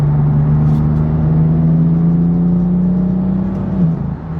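A stock BMW M4 with no exhaust upgrade revs steadily while accelerating, its smooth, fairly quiet engine drone holding a constant pitch before a brief shift near the end.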